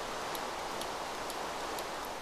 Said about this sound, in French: Il pleut, on va un petit peu baisser le son.